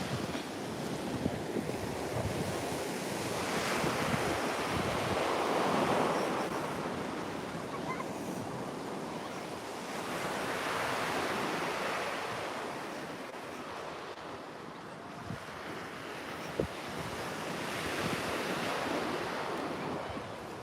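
Waves breaking on Caister Beach with gusting wind buffeting the microphone, surf swelling and receding in slow surges every few seconds, loud and close with no talking.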